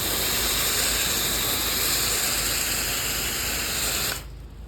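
A softwash sprayer wets a house's painted siding section by section, giving a loud, continuous hiss with faint steady whining tones above it, then cutting off abruptly near the end to leave a quieter background.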